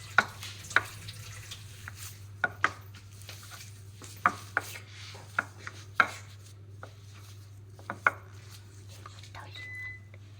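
Hands mix a mashed potato mixture with lemon juice, giving intermittent squelchy pats and slaps at an irregular pace over a steady low hum, with no talking.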